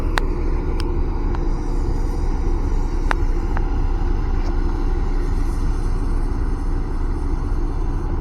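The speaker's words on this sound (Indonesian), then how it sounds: "banyak sekali terlihat alat berat dan kendaraan truk yang beroperasi di kawasan ini" Heavy equipment and trucks rumble steadily on a toll road construction site, a dense low engine drone with occasional sharp metallic clanks and knocks cutting through, fairly loud and continuous.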